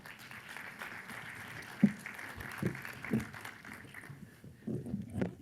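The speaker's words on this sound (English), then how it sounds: "Big hand of applause" Faint, distant applause from a conference audience at an education policy event ripples under a hum, with a few louder individual claps standing out near the front.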